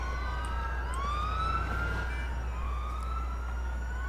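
Wailing emergency siren in a police video game, rising and falling sweeps over a low steady engine drone, fairly distant and with no talk.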